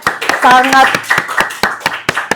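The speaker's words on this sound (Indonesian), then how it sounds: "Kita beri tepuk tangan dulu dok buat dokternya ya" Sharp claps in a quick irregular burst, a small group applauding a doctor briefly during a podcast while a voice talks over them.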